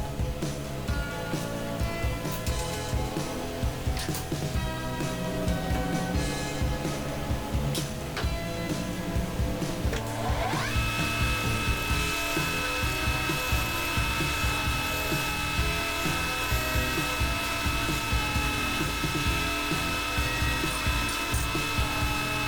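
A lathe dresses the end of a harmonic balancer installation tool flat, with a continuous mechanical whir and scraping cutter chatter. A steady whine joins partway through and holds to the end.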